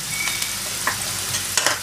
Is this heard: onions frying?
yes